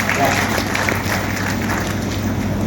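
An audience at a poetry recital in Ratangarh gives loud, dense applause, a continuous wash of clapping with crowd noise and a voice beneath it.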